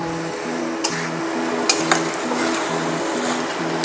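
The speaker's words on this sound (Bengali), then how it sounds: "ভালো করে চারিদিকে মিশিয়ে নিলাম গরম মশলাটা।" Garam masala is stirred into a mushroom curry in a pan, with a soft continuous sizzle, a steady background hum and a few sharp spoon taps against the pan.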